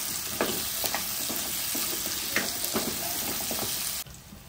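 A sweet potato curry mixture sizzles in a pan with steady frying hiss and soft scraping stirs at irregular intervals, close up, before the sound cuts abruptly near the end.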